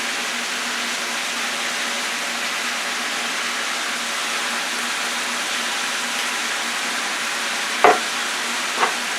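Ground beef frying in olive oil gives a steady, dense sizzle throughout, close and fairly loud, with a couple of brief clinks near the end.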